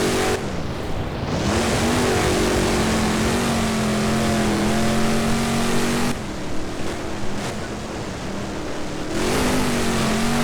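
A Maximum Destruction monster truck from Monster Jam roars through a BeamNG freestyle run, its engine revving loud and steady with pitch swings and a brief dip as the throttle eases, then surging again.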